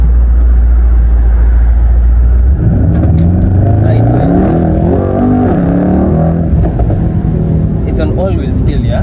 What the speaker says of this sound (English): I like the E63S how it sounds. It sounds so good.